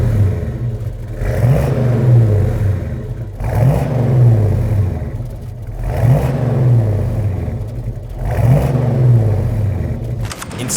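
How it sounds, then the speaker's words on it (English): A first-generation 1965-73 Ford Mustang with a Pypes exhaust revs repeatedly, four throaty rising-and-falling pulls spaced a couple of seconds apart over a steady deep idle, loud and close. "Adding a Pypes exhaust system to your first generation Ford Mustang is a great way to add sound,"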